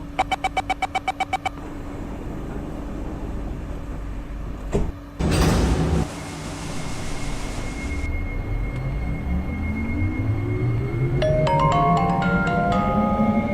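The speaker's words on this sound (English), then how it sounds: "Doors are closing." In a train simulator game, an Airport Express train at Exhibition Center gives a rapid series of warning beeps, then a short pneumatic hiss and thump as doors shut, followed by an electric motor whine rising in pitch as it pulls away.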